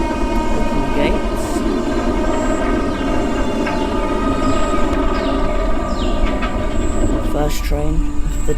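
In a theme-park video game, a loaded roller coaster train rumbles along its track in a loud, continuous mechanical roar with faint tonal whines, and a person talks over it.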